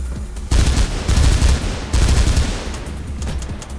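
Gunfire in the first-person parkour game Mirror's Edge, a loud sustained automatic volley of closely spaced shots, dense and near, fading slightly toward the end without talk.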